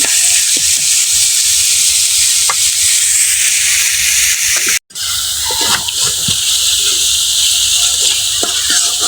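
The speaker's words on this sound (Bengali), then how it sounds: "এই যে এটা হচ্ছে মশলা কষানো হইতেছে আর কি। পেঁয়াজ মরিচ আদা বাটা রসুন বাটা" Onion, chili, ginger and garlic paste sizzle loudly in a pan as spices are fried and stirred for a fish and greens curry, a dense steady hiss with a brief cut midway.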